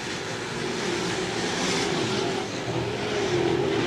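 Modified race cars circle New Egypt Speedway, a steady, dense engine roar from several cars at once that fills the whole stretch without pause, heard alone with no commentary over it.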